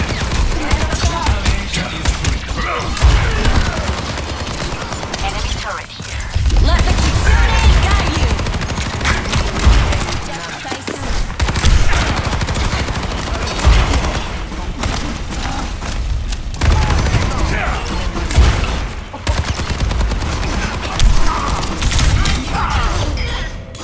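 Enemy turret gunfire in a video game, dense sustained bursts of loud mechanical shooting with booms and clanks, nearly continuous for the whole stretch with only brief gaps.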